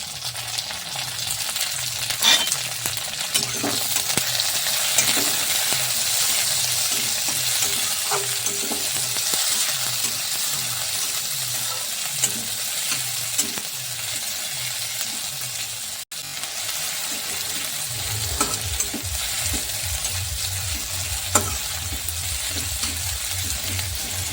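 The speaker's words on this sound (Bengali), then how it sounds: "এটা একদম লো ফ্লেমে ভাজতে হবে, তা না হলে পুড়ে যাবে। এবার দিয়ে দেবো টমেটো কুচি আর কাঁচা পাকা লঙ্কা কুচি।" Chopped tomato and green and ripe chilies fry on a low flame for an aloo dum, a steady close sizzle with repeated stirring scrapes throughout and a deeper bubbling note in the last few seconds.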